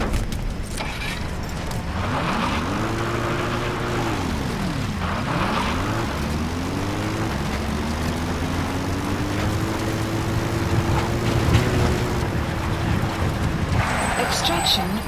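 In Metal Gear Solid V, an extraction helicopter arrives with a steady rotor and engine drone whose pitch rises and dips as it closes in, heard continuously over a background voice.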